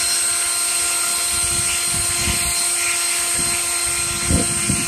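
A leaf blower runs in a hot yard during a heatwave, giving a loud, steady whine and broad roar for the whole stretch with a few low thumps near the end and no talk.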